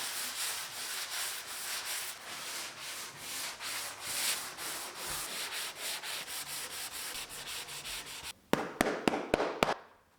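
Hand sanding of a wooden table before a coat of Minwax Spar Urethane, a steady back-and-forth rasping in even strokes, followed near the end by a few sharp quick taps.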